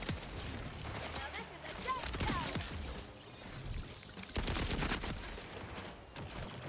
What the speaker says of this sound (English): look at that assault rifle. I mean, the assault rifle is kind of like a 2-tap.